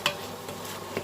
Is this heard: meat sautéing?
yes